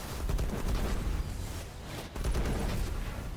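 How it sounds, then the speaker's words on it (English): Sustained booming blasts with deep rumble and crackle from rocket explosions in Destiny, loud and continuous with a brief dip midway. "rocket explosions have that huge sound"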